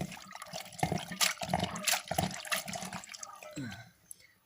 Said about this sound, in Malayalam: ഇതുപോലെ കഴുകണം. നല്ല വൃത്തിക്ക് ഇങ്ങനെ കഴുകിയെടുക്കണം.